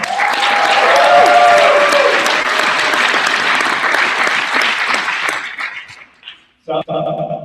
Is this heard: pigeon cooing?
no